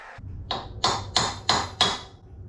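A metal stamp is struck hard against a welded steel rack for an ATV: five sharp, ringing hammer blows at an even pace, close and loud, with no talking.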